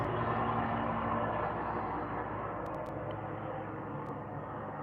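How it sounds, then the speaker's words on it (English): Steady mechanical rumble of a helicopter overhead, a continuous drone that fades slightly as it passes, with no talking. "Sorry if you can hear that helicopter."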